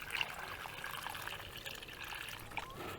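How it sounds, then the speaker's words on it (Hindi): Water is poured from a jug, about two litres, into the soil of a potted kiwi plant, giving a soft, steady trickle that runs quietly and continuously from start to finish. "2 लीटर पानी हमने इसके अंदर डाल दिया।"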